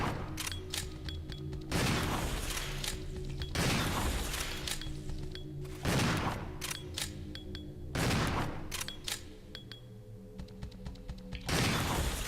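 Gunshots in the video game Resident Evil 0, several sharp, loud reports spaced a couple of seconds apart over steady background game ambience with mechanical clatter.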